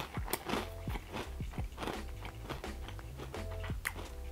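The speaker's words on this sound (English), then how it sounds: "As soon as you bite down, it has that nice crunch to it." Someone bites into and chews a crunchy Korean squid-flavoured peanut snack, loud close crunches in an irregular run of crackling bites with no talking.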